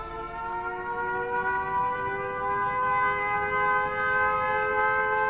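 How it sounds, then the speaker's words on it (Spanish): An air raid siren sounds over a British city facing a German bombing raid in wartime, a loud, sustained multi-tone wail holding steady and rising slightly in pitch throughout. "Las sirenas dan la alarma antiaérea."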